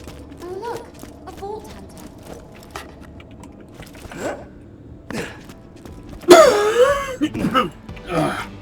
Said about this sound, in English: the cough persists